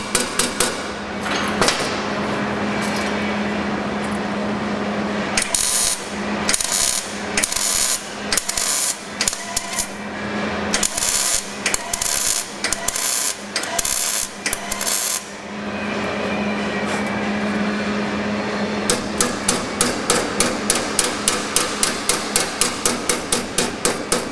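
Sheet metal being hammered and rolled over on a GTV car body: loud, close metallic hammer blows in irregular bursts, ending in a fast, even run of rapid strikes.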